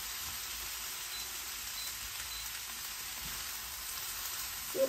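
Fried rice with garlic and chili sizzles in a pan, a steady, even hiss of frying heard alone and fairly quiet, ending with a small clink.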